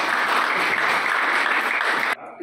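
An audience in a classroom discussion claps steadily and fairly loudly for about two seconds, then the applause stops abruptly.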